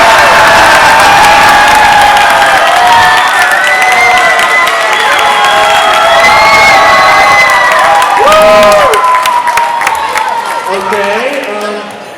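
A large audience at a combat robot competition claps and cheers loudly in a sustained roar of applause, whoops and shouting, with voices calling out throughout and the noise easing slightly near the end.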